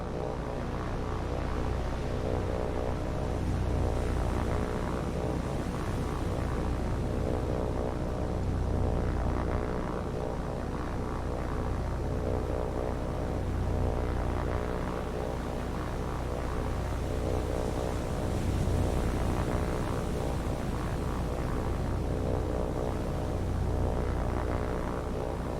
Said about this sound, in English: there is an aircraft out here somewhere